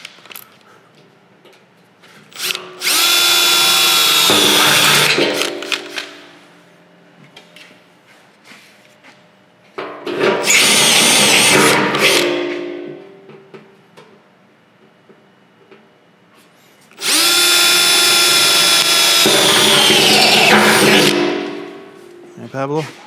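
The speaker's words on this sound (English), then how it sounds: "I was gonna start with a small one because it's much easier to drill." A power drill bores holes into the steel rear tail pan of a 1949 GMC Roadster pickup in three separate loud, whining bursts of a few seconds each, with quiet pauses between them.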